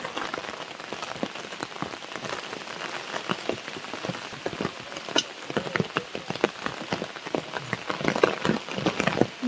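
Steady rain falls in a village, a dense patter of drops hitting surfaces close by, continuous and fairly loud with scattered sharper splashes throughout.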